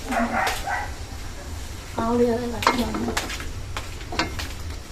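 Biko, a sticky rice cake with jackfruit, being stirred in a pot, with scraping and sizzling under a voice, while a dog barks a few times nearby.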